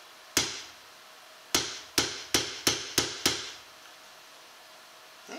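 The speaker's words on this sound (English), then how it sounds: "Use a metal hammer. Try and strike that home a bit further." Seven sharp metal hammer strikes on a five-string banjo part, one alone, then a quick steady series of blows with a ringing decay after each.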